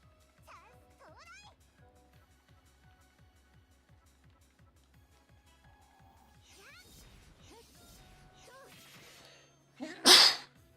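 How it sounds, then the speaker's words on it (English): A single loud human sneeze bursts out near the end, close and sudden, after a stretch of quiet video game sounds with rhythmic thumps and chirps during a Hi-Fi Rush stream. "I got a bad case of the sneeze."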